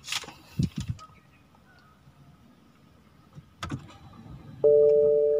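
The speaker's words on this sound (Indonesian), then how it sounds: "Ting ting katanya, macam bel ya." Dashboard chime of a 2009 BMW E90 sounding after the start button is pressed inside the cabin: a steady electronic tone begins near the end, following a few soft clicks and handling noises.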